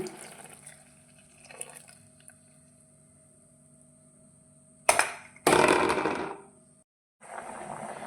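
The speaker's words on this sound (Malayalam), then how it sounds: "ഞാൻ ആ നേരത്തെ തേങ്ങ ചിരകിയ പാൽ ഒഴിക്കുകയാണ്." Milk squeezed from grated coconut poured into a simmering curry: a quiet stretch with a low hum, then a sudden close splashing gush of liquid lasting about two seconds, a brief silence, and more pouring.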